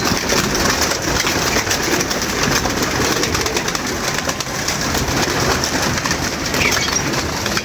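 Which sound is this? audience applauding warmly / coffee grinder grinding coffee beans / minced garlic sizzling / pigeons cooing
pigeons cooing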